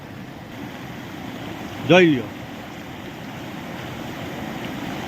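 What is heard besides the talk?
rainwater pouring off a field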